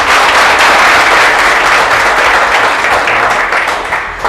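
Loud, dense applause from an audience at a motivational session for Air Force aspirants, steady and sustained throughout with a slight fade near the end.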